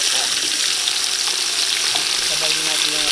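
Onion and tomato sautéing in a pan for tinola, a steady close sizzle with occasional scraping stirs and faint clinks throughout.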